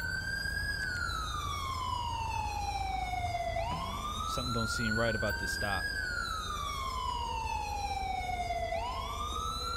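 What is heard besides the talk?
police car siren in video game GTA 5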